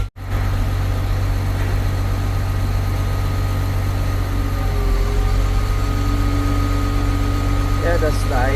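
Diesel engine of a freshly overhauled CAT 950H wheel loader idling near 900 RPM, a steady low rumble throughout, with people talking over it and a brief whine near the end.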